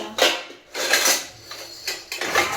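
Large washed cooking pots and dishes being handled at home, a series of bright metallic clatters and clanks in uneven bursts, close by with no talking.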